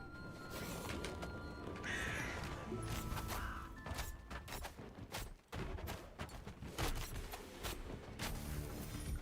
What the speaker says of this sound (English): Flock of crows. Look at those crows.